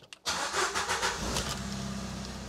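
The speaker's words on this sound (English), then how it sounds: "I'm gonna turn the vehicle on." Car engine catching on the starter and settling into a steady idle, close and fairly quiet, after a short crank at the start.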